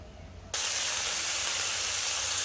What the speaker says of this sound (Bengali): কড়াতে দেখো আমি প্রথমে চিংড়ি মাছটা ভেজে নেবো